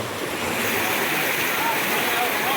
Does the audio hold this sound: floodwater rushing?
yes